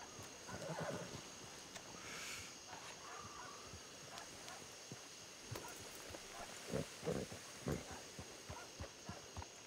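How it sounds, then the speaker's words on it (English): A horse neighs faintly in the video game Red Dead Redemption 2, a high whinny rising over steady background noise, with some quiet talk and scattered clicks. "Did he just call his horse while on the roof?"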